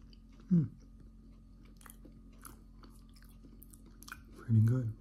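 Two brief, close crunching bites into a cinnamon apple crumb muffin, one near the start and one near the end, with quiet mouth sounds and soft chewing between.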